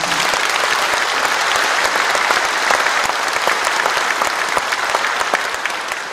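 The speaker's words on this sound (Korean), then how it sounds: "우리 엄태준 시장님에게도 박수 한번 보내주시기 바랍니다" An audience at a city mayor's inauguration ceremony gives sustained applause for the mayor, a loud, continuous crowd clapping with many overlapping hand claps.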